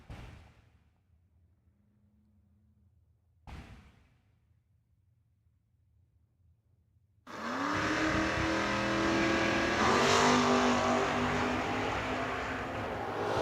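Drag cars launching side by side down the strip, a Ford in the left lane and a Malibu in the right, at Cedar Falls: quiet idle with two brief bursts, then a loud sustained roar of hard acceleration from about seven seconds on.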